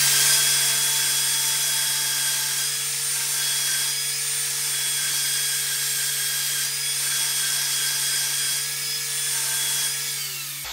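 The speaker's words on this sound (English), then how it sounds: "Now I'm going to grind the sides." A grinder works the sides of a fret leveling file with a steady, continuous high whine that holds for about ten seconds before cutting off abruptly.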